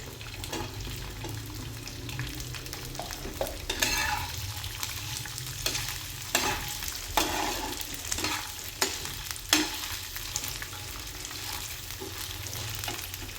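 Green chillies roast in a little oil on a tawa for a Vidarbha-style fresh pigeon pea kharda, a continuous sizzle punctuated by repeated scraping strokes of a spatula, close and fairly loud.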